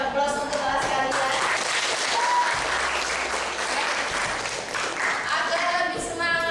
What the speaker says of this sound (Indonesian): Beri aplaus untuk kelas kalian